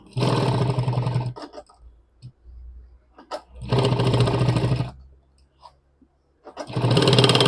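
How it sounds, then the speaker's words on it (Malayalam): A sewing machine stitches a narrow seam along the edge of a bag made from a pant pocket, running in three loud, close bursts separated by quiet pauses and small handling noises. "നമ്മൾ ഇതിൻ്റെ അരികിലൂടെ ഒരു കാലഞ്ചിൽ സ്റ്റിച്ച് ചെയ്ത് കൊടുക്കുക"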